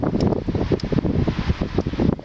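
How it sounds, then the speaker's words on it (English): Gusty wind buffets the microphone outdoors in a steady, rumbling rush with fluctuating loudness and no voices. "It's a little windy out here."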